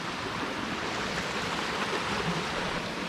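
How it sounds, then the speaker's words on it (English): Phillips Creek in Frozen Head State Park flows well, making a steady, even rush of water that is close and moderately loud, with no voices over it. "down here to Phillips Creek. As you can see, it is flowing"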